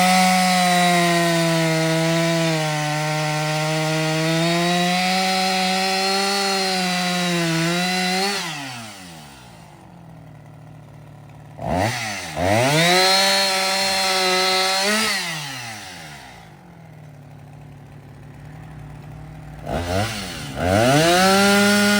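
Chainsaw cutting firewood outdoors in the background, a loud sustained engine whine that rises and dips with each cut, pauses, then revs again in repeated bursts.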